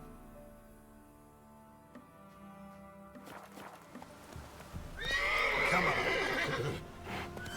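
Roach, Geralt's horse in The Witcher 3, lets out a loud whinny near the end while hooves clip-clop beneath a game soundscape, with a brief spoken line early on.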